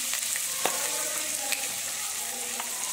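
Asafoetida and spices hit hot oil in a pan for a potato and pea dish, producing a steady close sizzle with a few sharp crackles and light spoon clicks, no one speaking.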